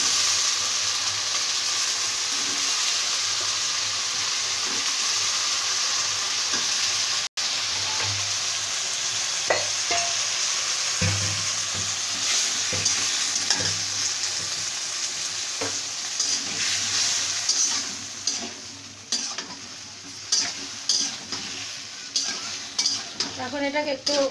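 Potatoes frying in hot oil in a pan for a fish curry with potato and tomato, a steady loud sizzle throughout with occasional stirring clinks and utensil scrapes, no talking.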